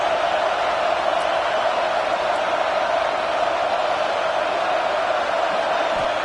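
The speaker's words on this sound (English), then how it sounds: "This crowd bringing the energy and noise early." Stadium crowd at a college football game in the CFB 26 video game, a continuous, even roar with no breaks, like a distant wash of many voices.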